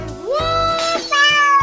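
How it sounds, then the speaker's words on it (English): Cartoon cat meowing in a children's animal cartoon, two clear, loud, tonal meows in quick succession, rising then held, with no talk over them. "Cat."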